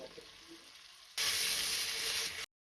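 Sliced onions frying in hot oil for egg pulao, a quiet kitchen murmur first, then a loud steady sizzle bursting in partway and running evenly until it cuts off.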